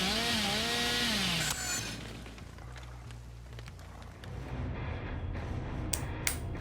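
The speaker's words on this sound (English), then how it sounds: "I hope you can hear me over this incredibly loud chainsaw, by the way" A chainsaw in the Dead by Daylight video game roars loudly and continuously, its rough buzzing revving and sputtering after an opening burst, alone without talk.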